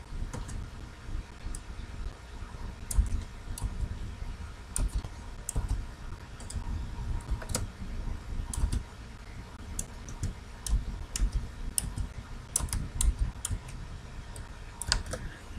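Faint, scattered clicks of a computer keyboard and mouse as a password is typed while changing a Google account password. Soft irregular taps sound close in a quiet room.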